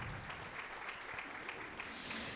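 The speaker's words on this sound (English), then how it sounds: "let's give them a round of applause" A crowd claps steadily for a couple of seconds, the applause dense and even, heard from some distance in a room.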